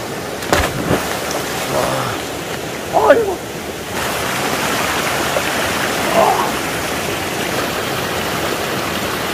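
A valley stream swollen by heavy rain rushes in a dense, steady broadband roar close by. Occasional voices and small bumps come through under the water noise.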